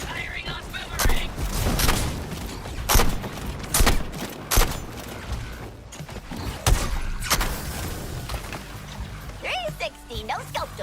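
Bursts of gunfire and thudding impacts from a Justice League video game, a series of sharp repeated volleys over busy game noise, with brief pauses between shots.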